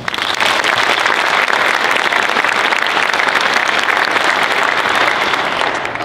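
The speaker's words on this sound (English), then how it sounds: "let's give her a round of applause" Loud, sustained applause from a large audience at a police promotion ceremony, dense clapping that holds steady throughout before easing slightly at the very end.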